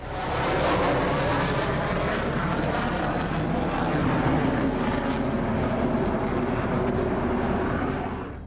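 Airplanes take off from a runway, a loud, sustained engine roar that holds steady for several seconds before easing slightly at the end.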